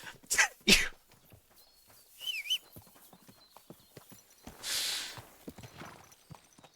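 Horse hooves clip-clop in the medieval role-playing game Kingdom Come: Deliverance 2. The steps are faint and irregular, with a horse snort, a whinny and some breathy snorting between them, and a few louder bursts.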